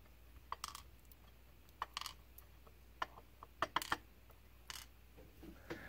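Small metal lock pins tipped out of a dimple lock core make quiet, scattered clicks and light metallic ticks, irregular and close, over near silence.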